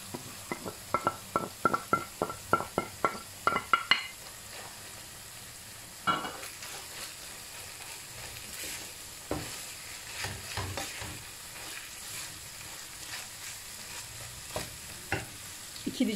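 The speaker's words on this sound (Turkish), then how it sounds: "Biraz da soğanla biberle kavuralım." Minced meat being sautéed with onion and pepper in a pan, steady sizzle with a burst of quick spoon scrapes and knocks at the start, then scattered stirring clatter over continuous frying.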